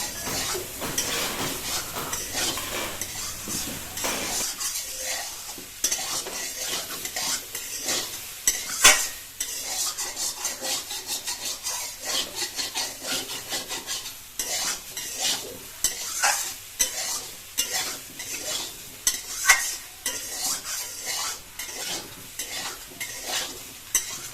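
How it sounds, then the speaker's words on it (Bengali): Soybean curry with whole garlic fried and stirred in a pan, a steady sizzle broken by frequent scraping stirs and occasional utensil clinks against the pot, close and fairly loud throughout. "আমরা আরেকবার একটু এটা এখানে সুন্দর করে এখানে একটু কষিয়ে নেবো মানে ভেজে নেবো"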